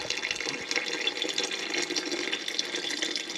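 Liquid pours steadily into a pot with a splashing, tap-like rush while tomato sauce is being made on a farm, a close, continuous trickle with no talk.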